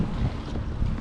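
Steady wind gusting across a lake while fishing from a boat, a constant low roaring buffet on the microphone with no talk, loud and close throughout.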